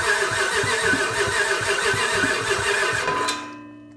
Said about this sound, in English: I'm going to do a test crank on it.